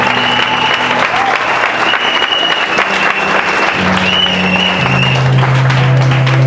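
A church congregation breaks into loud, sustained applause and cheering during a French-language sermon, a dense continuous wash of clapping with voices rising within it throughout.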